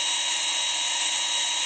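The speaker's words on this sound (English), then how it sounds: "you want to reverse the drill," A steady, high-pitched whine of a power drill running continuously in reverse while twisting Clapton coil wire, close and loud, with no pauses.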